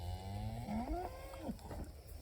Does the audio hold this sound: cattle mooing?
yes